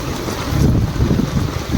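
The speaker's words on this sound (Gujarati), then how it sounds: "જો ચાલુ થઈ ગયો છે બહુ જ વરસાદ" Heavy rain roars steadily nearby, with a deep rumbling wash like wind buffeting underneath, loud and continuous, no voices.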